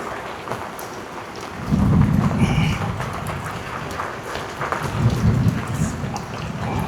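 Steady rain patters on surfaces while low rumbles of thunder swell twice, close and heavy, with no talking.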